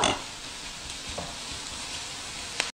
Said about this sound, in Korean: 자, 이렇게 양념이 볶아지면서 오징어가 또 점점 익습니다.